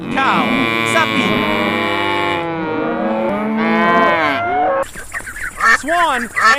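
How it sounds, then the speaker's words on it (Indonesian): A cow moos in long, loud, drawn-out calls up close, followed by a few shorter bird-like squawks toward the end. "Cow, sapi."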